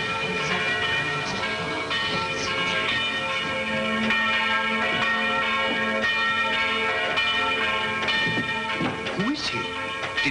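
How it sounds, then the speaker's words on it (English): A church bell rings with sustained, overlapping metallic tones over a low rumbling background, the strikes blending into a continuous resonant hum. "Did he ring the bell to say the gauntlet had come home?"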